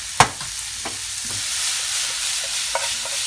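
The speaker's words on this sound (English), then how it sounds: "The onion has now been cooking for a couple of minutes." Onion and cumin seeds fry in a pan for bhindi bhaji, giving a steady close sizzling hiss broken by a few sharp clicks and scrapes of stirring, with no talk.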